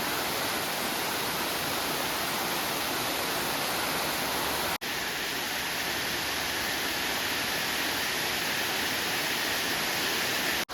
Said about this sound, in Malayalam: ഇതാണ് കുടിലുകുഴി വെള്ളച്ചാട്ടം.